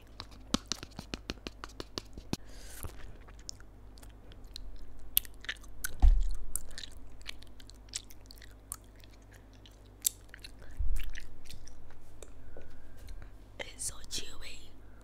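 Spicy tteokbokki rice cakes chewed close up, with soft, sticky, irregular bites and small crunches over a quiet background, plus occasional whispering.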